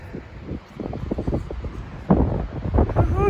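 Strong gusts of wind buffeting a microphone outdoors, rumbling in uneven bursts that grow harsher in the second half, with no clear voices.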